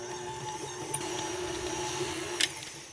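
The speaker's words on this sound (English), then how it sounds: "into this stand mixer, I'm going to put the butter, and we're going to cream that until it's nice and fluffy" A stand mixer creams butter in a home kitchen, a steady electric motor whine with a tonal hum that runs throughout at moderate level, broken by two brief sharp clinks.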